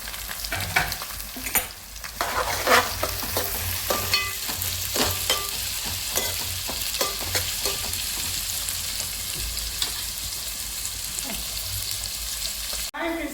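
Onion and green chilli pieces sizzle in a pan while being stirred, a steady close frying hiss broken by repeated scraping and clinking strokes of a spoon over about thirteen seconds, with no talking.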